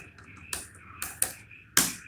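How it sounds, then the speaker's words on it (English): Sparse keystrokes on a laptop keyboard while entering a password to log into a Raspberry Pi, four or five distinct close clicks spaced irregularly over a faint background hum, no talk. "I'm just typing my password."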